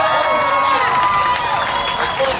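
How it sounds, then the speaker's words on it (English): A crowd at a housing-justice hunger strike rally claps and cheers loudly and steadily, a dense wash of applause with shouts and whoops rising through it. "And I hear everybody clapping"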